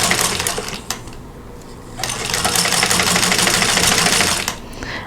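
Sewing machine stitching a quilt block seam, a fast close mechanical whir in two bursts, a short run, a pause, then a longer steady run, with small clicks between.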